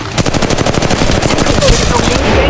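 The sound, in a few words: gunfire in Apex Legends Mobile video game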